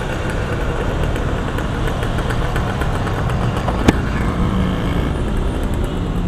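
A mountain bike converted into a motorcycle with a small add-on motor runs at a steady idle, a continuous buzzing engine drone up close with one sharp click midway.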